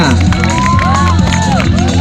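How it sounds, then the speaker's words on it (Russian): Football fans at a comic football match cheer, clap and stomp, a loud crowd noise that holds steady throughout, with rhythmic thumps and excited voices mixed in. "Похлопали, потопали!"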